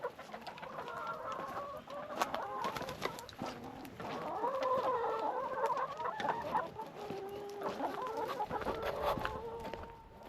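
A backyard flock of hens clucks and murmurs close by around their run, overlapping soft calls rising and falling continuously with no talking.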